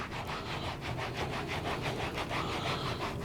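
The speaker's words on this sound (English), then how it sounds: "it said to rub it until the foam disappeared" Cleaner foam is rubbed into leather motorcycle chaps with a steady back-and-forth scrubbing, a close, rhythmic swishing friction repeating evenly throughout with no talking.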